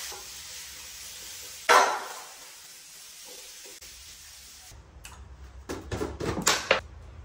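Spiced chicken stirred and mixed in a pan for a Ramadan sehri meal, with scraping stir strokes and soft sizzling, a sharp clatter early on and a cluster of louder scrapes and clinks near the end.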